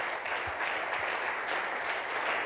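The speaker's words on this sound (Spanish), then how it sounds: "Dale ese aplauso de victoria al Señor." Church congregation applauding, a dense continuous wash of many hands clapping at even loudness throughout, with no voices standing out.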